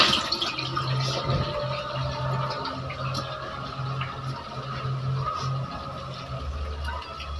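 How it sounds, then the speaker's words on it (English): Water poured into a pot of rice while making a low-budget stew, a close, gurgling trickle and splashing stream running continuously with a low bubbling undertone. "A little more water for my rice"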